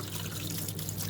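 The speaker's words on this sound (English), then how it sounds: "You can wash them under running water as I'm doing now" Avocado seeds being rinsed by hand under a running kitchen tap, a steady close trickle of water ending in a brief louder splash.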